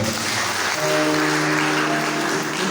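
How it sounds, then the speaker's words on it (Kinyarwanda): A church congregation breaks into loud, sustained applause, a continuous wash of many hands clapping with faint tonal sounds beneath. "Mukomere amashyi menshi Imana."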